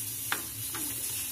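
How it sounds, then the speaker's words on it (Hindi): Paneer pockets sizzle gently in hot oil in a pan, a soft continuous frying hiss broken by two brief stirring scrapes close by. "इसी तरह से हम बाकी के भी सारे फ्राई कर करके रखते चले जाएंगे"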